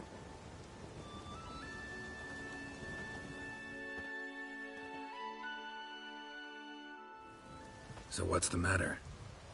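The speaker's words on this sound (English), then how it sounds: "There's no point standing here in the rain." Rain falling in the fantasy video game The Witcher 3, a steady hiss of rainfall that runs under a voice, dropping out briefly midway, with a louder burst near the end.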